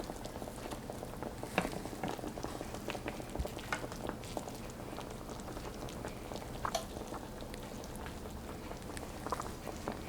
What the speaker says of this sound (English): now that we let it simmer for a little while, now we want to put our tortitas so that they can finish to cook